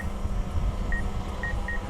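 Quick high-pitched electronic drone radar proximity beeps repeat at a quickening pace as the drone flies toward an obstacle, over a low motor hum, the warning growing more frequent.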